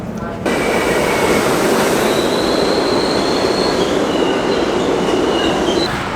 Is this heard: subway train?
yes